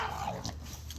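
Max, a big, scary-looking old dog, makes a short close vocal sound, a whimpering yip over steady low background noise.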